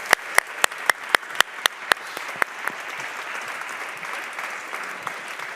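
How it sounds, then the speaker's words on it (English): A forum audience applauds its speakers, starting with a handful of sharp, evenly spaced claps that give way to a softer, sustained wash of clapping from the room. "join me in tribute and applause to our speakers"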